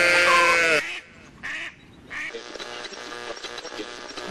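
Farm animal sound effects: a loud quacking duck call opens, followed by shorter bleating animal cries from sheep or goats in separate bursts with quiet gaps between.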